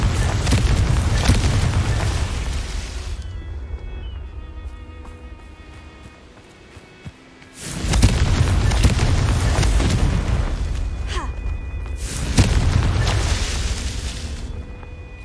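Confringo spell explosions in Hogwarts Legacy erupt in loud booming bursts, with one blast near the start, a big one around the middle and another later, separated by quieter stretches.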